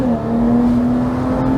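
A BMW Z4's engine pulls hard under acceleration, a loud, steady, sustained engine note held close with no talking.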